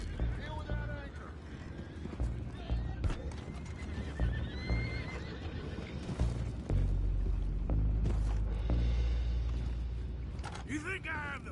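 Horses in Red Dead Redemption 2 at Beaver Hollow whinny and neigh repeatedly while their hooves clop and stamp close by. Rumbling game effects and background commotion build beneath them.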